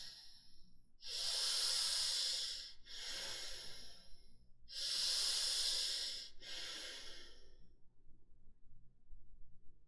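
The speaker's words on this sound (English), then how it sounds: "Long deep in the hissing breath, please." Deep hissing breaths during a guided meditation, two long exhalations each followed by a shorter one, forced through the teeth in close, loud airy bursts over a faint low hum, ending in quiet.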